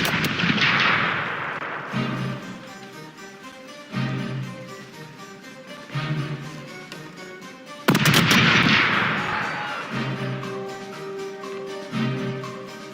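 Ship cannons firing in the pirate game Corsairs Legacy, heavy booming blasts at regular intervals of about two seconds, each with a long rumbling decay, one louder double blast midway, no talk.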